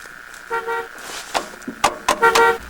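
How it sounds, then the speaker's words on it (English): A car horn honks in short, loud bursts, several toots in quick succession close by, with no talking over them. "Okay, honk the horn."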